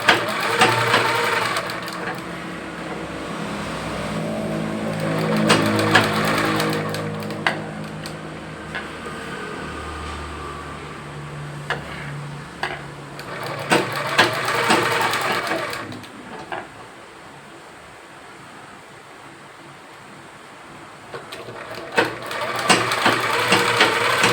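Sewing machine stitching the round neck lining of a blouse, running in steady rattling bursts with brief slowdowns and pauses, close and fairly loud throughout.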